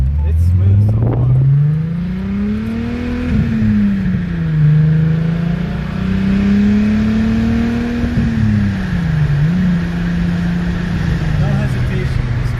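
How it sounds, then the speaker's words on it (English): A 2002 Volkswagen Golf VR6 2.8L engine revs up and eases off repeatedly while driving, a loud, close, rising and falling drone as it pulls through the gears, with road noise underneath. "Motor revs up."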